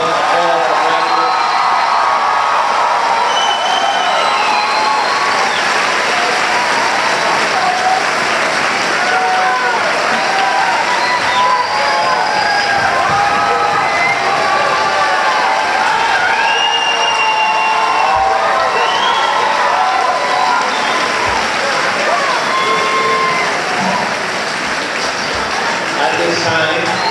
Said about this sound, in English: big round of applause for all of our graduates